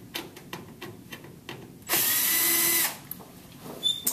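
A power drill whirs for about a second, loud and close, backing a screw out of a front-load LG washer's control board, with small clicks and handling taps around it.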